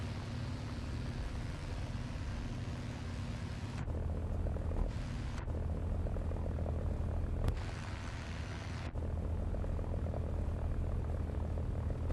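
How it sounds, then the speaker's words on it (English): Bomber aircraft engine drone in the War Thunder air arcade game, a steady low hum that shifts in pitch and level a few times, with no talking over it. "It's a bomber."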